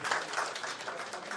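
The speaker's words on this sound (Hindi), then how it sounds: "एक बार जोरदार तालियां हो जाए रेड्डी सर के लिए प्लीज।" An audience at a New Year press conference at Country Club breaks into brief, dense applause, with faint voices mixed into the clapping.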